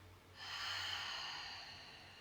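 A slow, deep breath drawn in during a breathing meditation, a soft airy inhale of about two seconds, close and quiet, with no talk.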